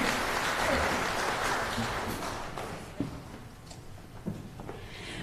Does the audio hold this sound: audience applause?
yes